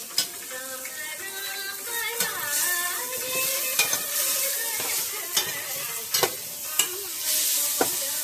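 Godhumai rava upma being stirred in a hot pan: a steady frying sizzle with repeated scraping strokes and sharp utensil clicks against the pan, close and continuous, with no talking.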